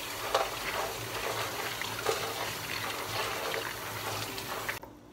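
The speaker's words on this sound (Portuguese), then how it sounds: "Vou lavar o feijão." Running water splashes and hisses steadily while beans are washed in a small kitchen, a close, continuous wash of sound with a few louder splashes, stopping abruptly at the end, no voices.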